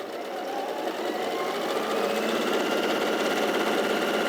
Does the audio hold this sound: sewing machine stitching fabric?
yes